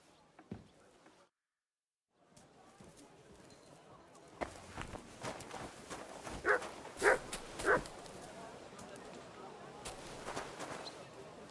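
A dog in the video game Kingdom Come Deliverance II gives a few sharp barks in quick succession amid footsteps and background game sounds.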